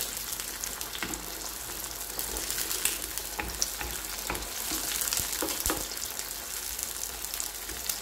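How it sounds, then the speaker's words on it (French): Beans simmering in a covered pot on the stove, cooked Congolese-style, giving a steady soft bubbling sizzle with occasional small pops and light stirring clicks throughout, no talking. "Donc je vais laisser mijoter 10 minutes."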